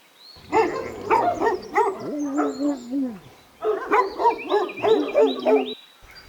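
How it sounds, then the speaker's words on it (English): Several dogs bark and yelp in bursts in a village in Spain, some howling, fairly close, in two clusters separated by a short pause. "Been warned that there are lots of dogs here."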